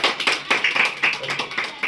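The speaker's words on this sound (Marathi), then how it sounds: "हा सगळेजण टाळ्या वाजवा" Schoolchildren at a school fair's opening ceremony clap together, a close, lively patter of many hands in quick uneven bursts.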